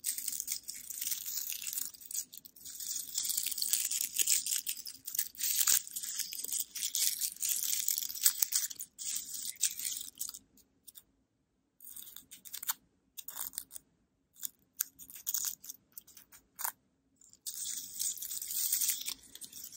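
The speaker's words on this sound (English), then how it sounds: "The rustling of fall leaves." Fall leaves rustle and crunch close up in a quiet ASMR recording, with bursts of crisp crinkling broken by short silent pauses and then starting again.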